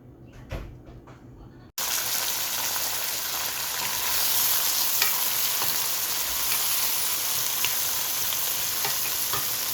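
Onions frying in white oil in a pot, a steady loud sizzle that starts abruptly after a brief quieter moment of handling and continues unbroken, with faint stirring clicks.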